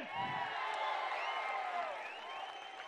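A political rally crowd claps and cheers at moderate distance, a continuous murmur of applause and voices that holds steady for a few seconds.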